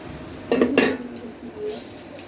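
Dry rice grains tipped into a metal pot for pulao, giving a brief rattling pour with a couple of clinking hits against the pot, fairly close, followed by faint kitchen rustle.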